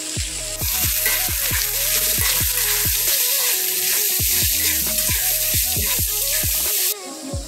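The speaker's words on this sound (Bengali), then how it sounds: "মটরশুঁটিগুলো দিয়ে দেবো," Beans and peas frying with chopped carrot and beetroot in a pan, a continuous loud sizzle under rhythmic, repeated spatula scrapes and clacks, close and busy throughout.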